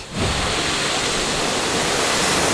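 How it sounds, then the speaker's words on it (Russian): A waterfall beside a mountain hiking trail at Rosa Khutor near Sochi roars in a steady, dense wash of noise that fills the whole clip, loud and close, with no voices over it. "Финальная точка малого круга. Это водопад."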